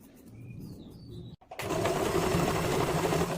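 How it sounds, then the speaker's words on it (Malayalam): A sewing machine stitches a churidar, running steadily and loudly for the second half after a brief pause, with a quieter whirring stretch before it. "നമുക്ക് ഇവിടുന്ന് സ്റ്റിച്ച് ചെയ്ത് തുടങ്ങാം"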